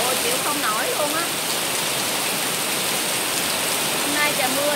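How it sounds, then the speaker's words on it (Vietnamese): Steady heavy rain pours in a dense, constant hiss in a Malaysian area with asphalt roads, close and loud, while a voice speaks briefly over it. "Hôm nay trời mưa được cái mát mừng ghê luôn, mấy tháng rồi không được mưa."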